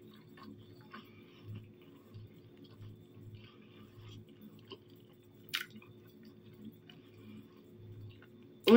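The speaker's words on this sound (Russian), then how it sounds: "Ой, тщательно жую, тщательно." Soft, close chewing of food, with faint rhythmic mouth and squishing sounds repeating quietly through a mostly hushed space, and a brief sharper click near the end.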